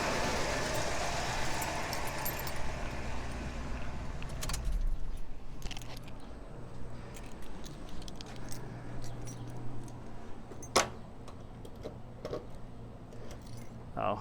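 Car keys jangling beside an idling 1967 and 1975 Oldsmobile Delta 88, light metallic clinks and rattles with a few sharper jingles over a low engine rumble and faint talk.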